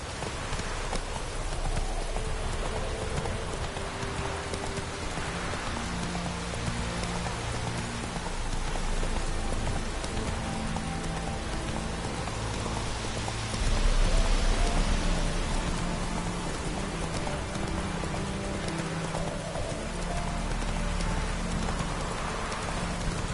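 A horse named Roach trots through rain in a video game. Steady, rhythmic hoofbeats sound over continuous hissing rainfall, with a brief louder surge partway through.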